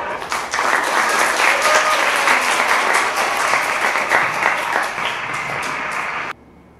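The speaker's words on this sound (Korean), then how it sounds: "박수로 부탁드립니다" An audience at a literary concert gives warm, sustained applause, with steady close clapping that fades slightly before cutting off abruptly into quiet.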